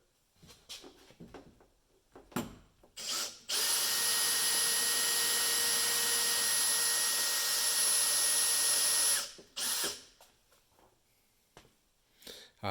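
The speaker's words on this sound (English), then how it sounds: "I'm going to drill a couple of holes to pop rivet." A power drill whirs steadily for several seconds, drilling pop-rivet holes near motorhome air-conditioning ductwork, loud and close, with brief clicks and handling noises before and after.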